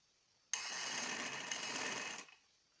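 A sewing machine stitches along silk fabric piping on a lehnga peplum, one continuous fast mechanical whir that starts abruptly, runs steadily for under two seconds and stops, close and clear in a quiet room.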